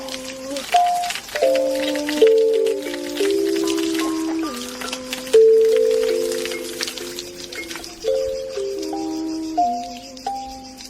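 Kalimba notes mimic falling rain: a steady run of bright, plucked metal tines ringing and overlapping in shifting melodic steps, close and clear, with no talking.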